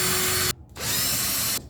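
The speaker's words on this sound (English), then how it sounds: "I'm going to go ahead and finish some of these pilot holes here" A power drill bores pilot holes into wood for a handmade gift project, two sustained bursts of whirring with a short pause between them, loud and close, with no talking.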